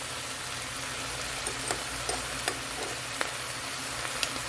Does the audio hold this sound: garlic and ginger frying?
yes